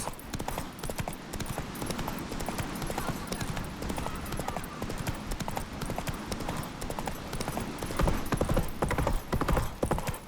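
A horse in The Witcher 3 gallops in a fast, continuous clip-clop of hooves for about ten seconds, close and loud, growing heavier near the end, with no talk over it.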